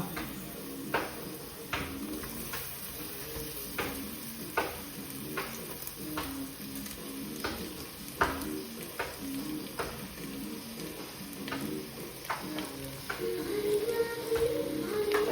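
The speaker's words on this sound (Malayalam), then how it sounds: "എന്നിട്ട് നന്നായിട്ട് മിക്സ് ചെയ്ത് കൊടുക്കുക മിക്സ് ഇറ്റ് വെൽ" Rice being stirred and mixed in a frying pan, steady sizzling with scraping spoon strokes at irregular intervals, close and moderately quiet.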